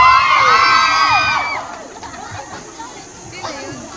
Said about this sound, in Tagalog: Isang sigaw at sigaw na para kay Eliza!